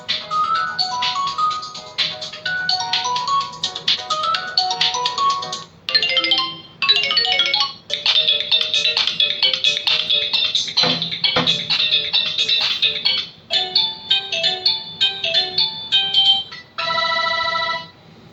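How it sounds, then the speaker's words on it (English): A series of different electronic ringtones from a Blackview N1000 rugged mobile phone plays one after another, bright chiming melodies separated by brief pauses. "well, those are the ringtones."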